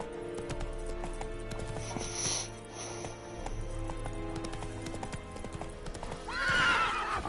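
Roach the horse gallops in The Witcher III, with rhythmic clip-clop hoofbeats running steadily throughout, a whinny near the end, and game music and ambience beneath.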